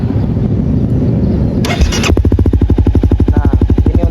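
A motorcycle engine cranks with a brief whirring starter, then catches and settles into a loud, steady, close-up idle with an even rapid pulse, with no talking.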